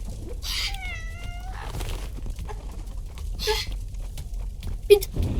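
A cat in a video game meows a few times, a short drawn-out call near the start with more brief meows later over steady game background noise and some voices.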